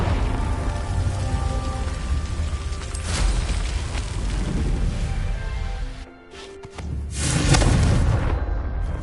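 A Confringo fire spell in Hogwarts Legacy lands with booming blasts amid the crackle and hiss of combat. A sharp explosive burst comes near the end after a short lull.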